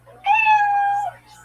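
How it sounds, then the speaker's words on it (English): A single cat meow sound effect, clear and close, rising and holding for under a second before trailing off, over a faint low hum. "And you hear the sound of a kitty."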